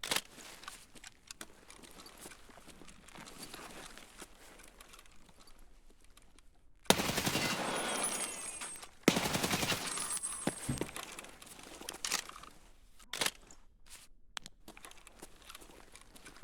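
Gunfire in Escape From Tarkov from a fight in a nearby room, with quiet rustling at first, then two dense bursts of rapid shots and a few scattered single cracks, loud and harsh against a quiet background.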